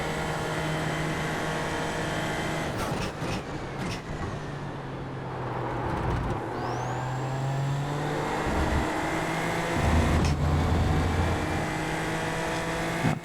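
Racing car engines hum steadily through a racing video game, several cars' tones overlapping and shifting in pitch as they accelerate, with a brief rising whine partway through and a loud steady drone throughout.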